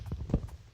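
A few quick hoof clip-clops from a horse in Minecraft, soft and brief, with a dull thud in the middle.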